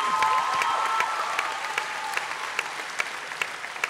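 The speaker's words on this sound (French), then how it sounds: "Vous pouvez l'applaudir." At the Kids Voice Tour singing competition finale in Montreux, a concert-hall audience claps steadily, a dense rain of hands that slowly thins and softens, with a few individual claps standing out near the end.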